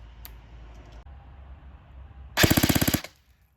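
Elite Force MP5SD airsoft gun firing full auto, a short, sharp burst of about a dozen rapid clicking shots at a steady rate, close and loud, following a quiet lead-in with faint background noise.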